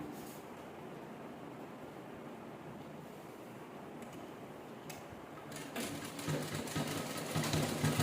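Sewing machine stitching a laptop cover: a low continuous whirring that grows louder and busier in the final few seconds, with no talk.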